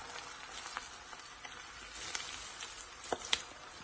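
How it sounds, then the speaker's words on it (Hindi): Onions frying in a pan for a chicken and potato gravy give a steady, soft sizzle with a few sharp crackles near the end, heard alone and not loud. "अब देखें गोल्डन ब्राउन होने वाले हैं हमारे ऑनियन।"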